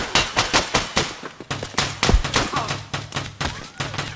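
Rapid bursts of automatic gunfire in Escape from Tarkov on the Interchange map, repeated sharp shots in a steady rhythm with a heavier blast midway, loud and close.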